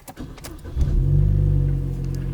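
A Chevy Cruze car engine cranking briefly and catching, then settling into a steady, loud, low idle rumble close by, with no talk over it.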